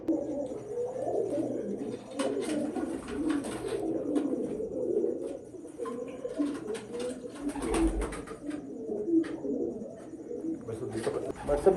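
Breeder pigeons coo repeatedly nearby, soft throaty rolling calls overlapping in an indoor loft, with someone talking in the background and occasional flapping or shuffling.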